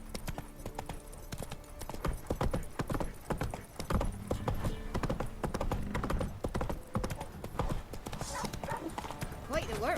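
Horse hooves clip-clop steadily in the video game The Witcher, a close and busy rhythm of hoofbeats, with voices talking over them and a brief whinny.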